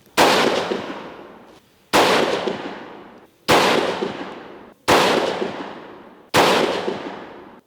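Five sharp rifle shots from a 6mm Creedmoor Howa 1500 at an outdoor range, each a loud crack with a decaying echo tail, spaced about one and a half seconds apart, with no talk.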